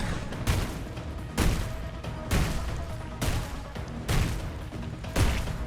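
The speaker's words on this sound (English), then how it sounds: "It's shotgun time." Shotgun blasts in the class-based roguelite shooter Afterblast, six heavy booming shots at a steady, roughly one-second rhythm, loud and close over continuous game noise.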